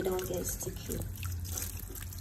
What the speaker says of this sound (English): So I just run cold water on top and wash